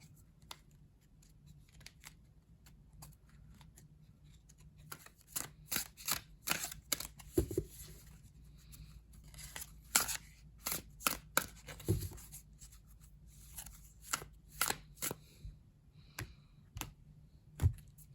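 A tarot card deck being shuffled by hand, a quiet series of crisp card riffles and taps arriving in irregular bursts at close range, with no one talking.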